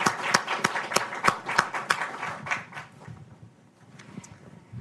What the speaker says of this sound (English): maybe we could have a round of applause for our distinguished guest, Dr. Workneh.